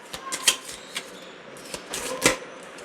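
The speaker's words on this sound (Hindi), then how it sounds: "अगर आप इस कार्ड शफल को नहीं देखना चाहते हैं तो आप इसे स्किप कर सकते हैं।" Tarot cards shuffled by hand give a run of quick, crisp papery flicks and snaps in uneven bursts, close and moderately loud, with no talking.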